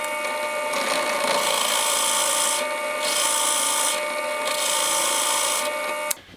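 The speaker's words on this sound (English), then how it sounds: "using a 20 mil Forstner bit, I'm going to create a little recess so that the roofing bolt sits inside the body" A 20 mm Forstner bit cuts a recess in a wooden guitar body, giving a steady, loud grinding and rasping drone that holds for several seconds and then stops abruptly at the end.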